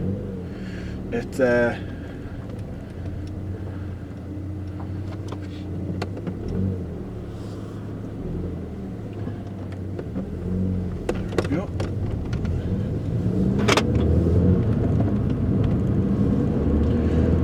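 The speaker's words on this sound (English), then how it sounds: "little test to see if there's any change in the induction noise" Steady engine drone from an R56 Mini Cooper S with an Alta blow-off valve spring, low rumbling induction noise throughout while driving, rising and growing slightly louder toward the end, with a few brief clicks and whines.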